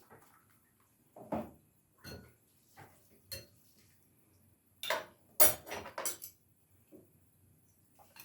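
A spoon clinks and scrapes against a bowl while homemade ramen seasoning of spices, jalapeno juice and Old Bay is stirred, with scattered separate taps and a brief cluster of sharper clinks in a quiet room.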